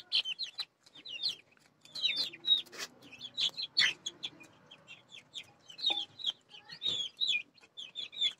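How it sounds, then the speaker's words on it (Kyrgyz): A backyard flock of chickens of unknown breed, many of them roosters, clucks and chirps in soft, scattered bursts, with quiet sharp calls popping up throughout. "Бул эмне порода тооктор билбейм"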